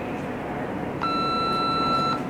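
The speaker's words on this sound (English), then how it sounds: "Please leave a message after the beep." A single steady electronic tone from an answering machine sounds for about a second over a constant background hiss.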